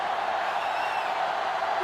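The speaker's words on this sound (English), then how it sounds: "They're really struggling now as this crowd is going absolutely insane." Stadium crowd in NCAA Football 2005 cheering during an NC State versus Florida game, a steady distant roar of many voices without a break, fairly faint.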